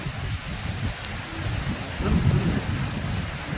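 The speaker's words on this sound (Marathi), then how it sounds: "आता इथं जोरात जोरात पाऊस येतोय" Steady heavy rain pours down with a dense, continuous wash of noise, rumbling low beneath, and a gusty surge midway through.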